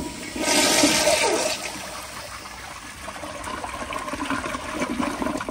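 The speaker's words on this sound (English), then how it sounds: "But here's a flush." A 1972 Kilgore Argus toilet with its water pressure turned all the way up flushes loudly with a sharp rushing surge, then settles into steady trickling and refilling water, heard up close with no talking.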